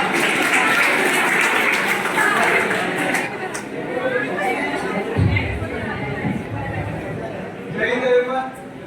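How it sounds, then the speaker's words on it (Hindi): Crowd applause welcoming a speaker at a college engineering day event, dense clapping for the first few seconds that fades into murmuring chatter and scattered claps, with a voice speaking later. "जोरदार तालियां से स्वागत कीजिए प्रियंका"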